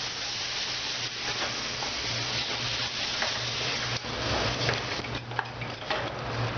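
Tomatoes fry in a pan with carrots for vegetable fried rice, producing a continuous close sizzle with small pops and scraping stirs over a low steady hum.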